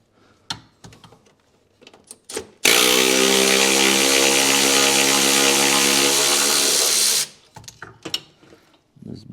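A pneumatic impact tool runs in one steady loud burst of about four and a half seconds, backing bolts out of a bracket on a Mercedes 300CE AMG, with brief clanks and handling noises before and after.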